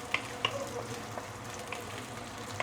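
Whole unminced garlic cubes browning in vegetable oil for three cups chicken, a dense close crackling sizzle with a few brief sharp pops and clinks over it.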